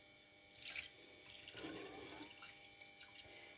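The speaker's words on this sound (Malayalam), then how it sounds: "ഉപ്പ് ചേർത്തിട്ട് അതിലേക്ക് നമുക്ക് കുറച്ച് വെള്ളം ചേർക്കാം" Water is poured onto sliced potatoes in a pan while cooking potato bhaji. It makes a faint, close splash and trickle, with a couple of soft bursts of flow and dripping, and no voice is heard.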